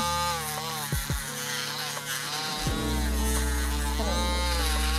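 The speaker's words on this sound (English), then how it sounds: "The Dremeling is gonna help smooth the top of the nails so they're not so sharp." A Dremel rotary tool grinds and smooths a doodle's nails during grooming, a steady close electric whine that holds through the clip with brief dips in pitch as it meets the nail.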